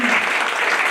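Audience applause at a live show, a dense, steady wash of clapping filling the whole moment, loud and close with no voices standing out.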